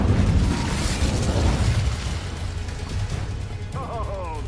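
A burst of fire from the Incendio spell in Hogwarts Legacy, a loud blast at the start that settles into a low rumbling roar with crackling, and a brief voice near the end.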